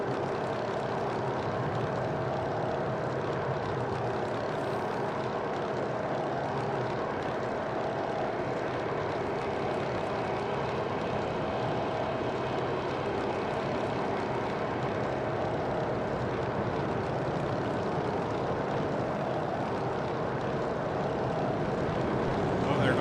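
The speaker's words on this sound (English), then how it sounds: "That jet again." A jet aircraft flies overhead with a continuous broad engine roar, steady and fairly loud for the whole stretch, swelling slightly toward the end.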